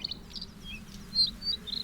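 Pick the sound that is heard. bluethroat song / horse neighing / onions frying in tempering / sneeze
bluethroat song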